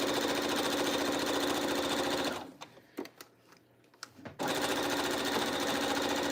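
Sewing machine stitching quilt block squares together, a loud steady mechanical whir running continuously, briefly stopping for about two seconds with small clicks and handling noises, then resuming at full speed.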